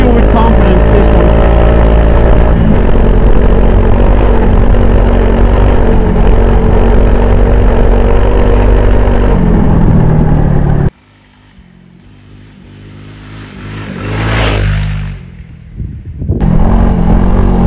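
The engine of a Honda CRF300 Rally with rally-raid suspension drones loudly and steadily while the bike is ridden, with heavy wind rush before it briefly drops away and then returns.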